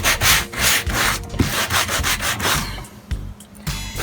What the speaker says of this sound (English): use at least 100 grit sandpaper.